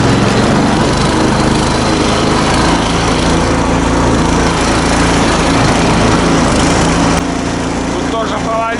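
A tricycle engine drones loudly and steadily while riding off-road toward an abandoned village, a constant close buzzing roar that dips slightly near the end, with a voice talking faintly under it.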